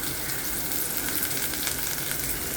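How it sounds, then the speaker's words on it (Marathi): Chopped onion with ginger garlic paste and a little coriander fries in hot oil in a pan over low heat for Kolhapuri brinjal curry, a steady close sizzle. "तोपर्यंत आपण हा कांदा परतत राहायचा मंद गॅसवर"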